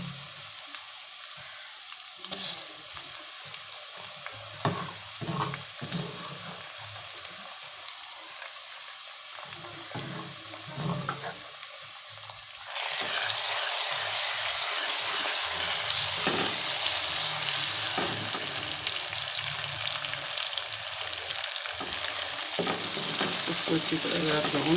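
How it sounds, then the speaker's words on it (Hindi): Ginger garlic paste hits a pan of browned onions and is stirred. A soft sizzle with scraping strokes jumps to a loud, steady frying hiss partway through and keeps crackling to the end, with no talking. "अब मैं इसमें अदरक लहसुन का पेस्ट डाल रही हूँ।"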